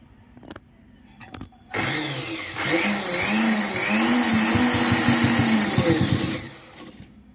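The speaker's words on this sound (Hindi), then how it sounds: "और आधा आधा इंच की दूरी पे मोड़ते जाएंगे और सिलाई करते जाएंगे।" A sewing machine stitching the half-inch folded hem of a six-panel petticoat: a steady, close motor whir with a rhythmic stitching rattle after a few light clicks, running several seconds before stopping, with no speech.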